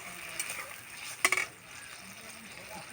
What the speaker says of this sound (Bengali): এবার এটাতে আমি আর খানিকটা জল দিয়ে দেব।